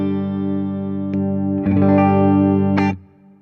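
An Ibanez AZES electric guitar played through its neck single-coil pickup, a held chord ringing with a slight scrape midway, then fading as the sound changes near the end, close and loud.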